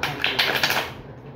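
Tarot cards being shuffled at close range, a dense run of quick papery riffles and snaps that thins out toward the end, with no voice over it.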